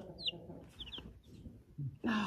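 Rhode Island Red, Cinnamon Queen and small black hens on a farm give a few short, soft clucks and chirps, with a louder close cluck near the end.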